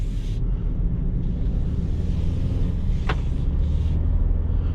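Low, rumbling engine and road noise from inside a 2021 Ford Ranger Lariat Supercrew 4x4 while driving, with steady cabin drone and a few brief wind or rustle bursts.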